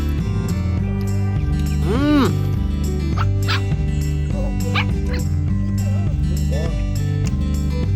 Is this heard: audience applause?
no